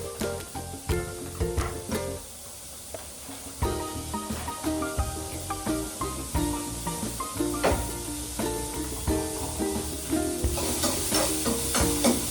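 Onions frying in a pan with onion powder, ginger and garlic nearby, a steady sizzle broken by repeated scraping stirs and clinks, close and fairly loud with no talk.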